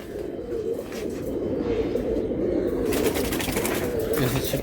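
Bezi pigeons coo in soft, repeated low calls close by, with a faint rustle of surrounding birds and no talking.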